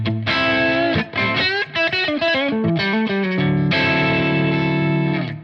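An electric guitar on its neck single-coil pickup plays through a Friedman-style amp model, loud and overdriven with a chorus-like sheen, a struck chord, a quick melodic run, then a sustained ringing chord.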